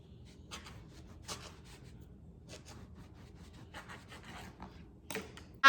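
A knife slicing folded tortillas on a cutting board for cinnamon-sugar papitas gives a few short, scratchy scraping strokes at irregular intervals, quiet and close, with no talking.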